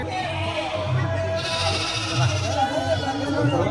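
Sheep bleat several times nearby against a busy background, with people talking over the animals.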